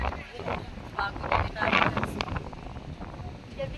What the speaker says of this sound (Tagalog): sarap maligo sana kaya lang sobrang lakas ng hangin